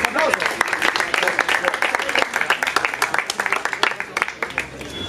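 Audience at a freestyle rap battle semifinal clapping in sharp, uneven bursts, loud and close, with individual claps standing out and voices shouting over the applause.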